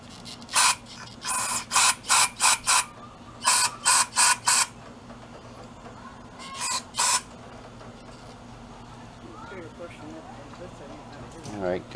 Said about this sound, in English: I'm gonna try to spray it out the way it is.